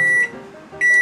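A microwave oven heating spicy duck bulgogi gives two short, sharp electronic beeps, one at the start and one at the end, with a faint hum between them and no talking.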